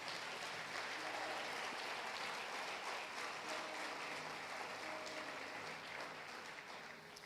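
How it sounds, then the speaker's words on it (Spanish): Steady congregation applause at a church service fills the whole stretch, dense and even, easing slightly toward the end with no talk over it. "Ahora sí, dale un aplauso al Señor."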